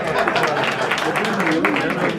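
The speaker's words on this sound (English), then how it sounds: "Big round of applause." Dense crowd applause at a corporate rebranding event fills the short clip, a steady wash of many hands clapping at once, fairly loud and close.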